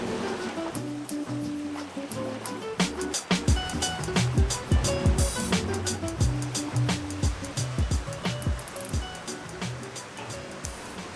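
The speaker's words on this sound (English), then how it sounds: "There's the sea right there as well." Sea waves on a beach at Tulum near Playa del Carmen, Mexico, a continuous wash of surf with repeated surging crashes and some clattering, loud and close.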